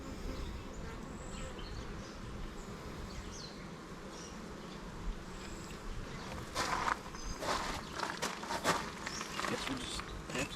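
Honeybees buzzing in a dense hum around a crowded hive bearding in hot weather, continuous and close, with rustling handling noises growing in the second half and a voice talking over it.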